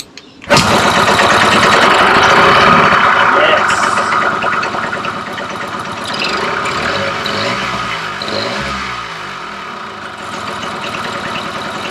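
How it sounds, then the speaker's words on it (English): A motorcycle engine catching on ignition with a sudden loud start, then settling into a steady, close idle that runs continuously and slightly lower after a few seconds. "Now that the bike's running again, I won't say sweet because I just don't know, but it is running"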